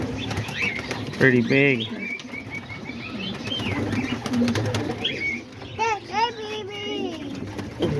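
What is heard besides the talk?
homing and roller pigeons cooing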